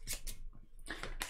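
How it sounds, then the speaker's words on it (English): A deck of playing cards for the Paperback card game being shuffled by hand, several quick papery riffles and snaps in short bursts, close and fairly quiet. "you're going to shuffle your deck"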